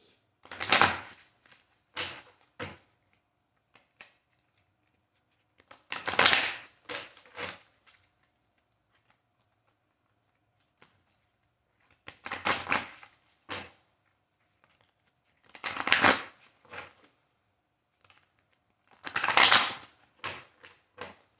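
Tarot cards are shuffled in several separate bursts of rapid riffling and slapping, each a second or two long, with quiet pauses between.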